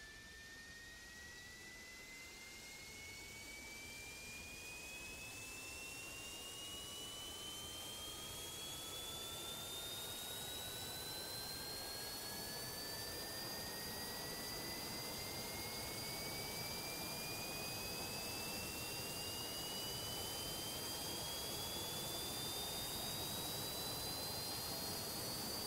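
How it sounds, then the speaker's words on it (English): MiG-29 jet engines spool up in the DCS Flaming Cliffs 3 flight simulator: a steady turbine whine climbs in pitch over a swelling roar, then levels off, loud and alone. "The engines will take a moment to reach operational status."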